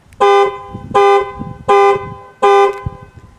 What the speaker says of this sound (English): I'll let you guys hear the panic alarm.